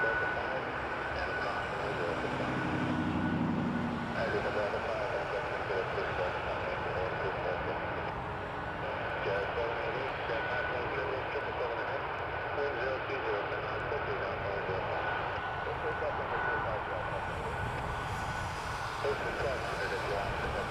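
At Toronto Pearson Airport, a regional jet bound for Washington takes off with a continuous roaring engine rumble heard from a distance. The roar holds steady for twenty seconds while people talk throughout.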